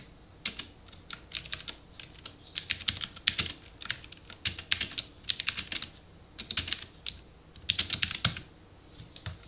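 Typing on a computer keyboard while writing code comes as irregular bursts of crisp key clicks with short pauses between flurries. The keys sound close and fairly quiet.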